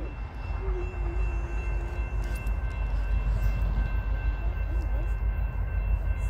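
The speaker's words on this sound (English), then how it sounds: "Here goes the next train, y'all." A westbound freight train rumbles past steadily at Macungie, Pennsylvania, with a low, continuous roar of rolling wagons and faint squeals, a distant horn note mixed in.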